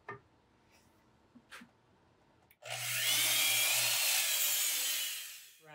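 Hand saw cutting through wood for a cigar box guitar build, a loud sustained rasping burst of about three seconds after a quieter stretch of small taps and knocks, close up.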